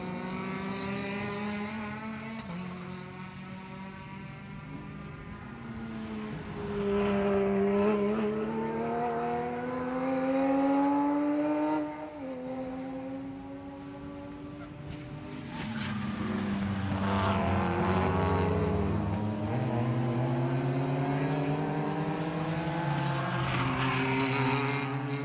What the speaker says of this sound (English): Cars all sound lovely as they go through.